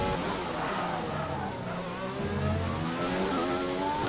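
An F1 car in the F1 2020 video game at the Azerbaijan Grand Prix locks a wheel under braking, giving a continuous engine drone with a tonal squeal sliding across it, loud and steady without talk.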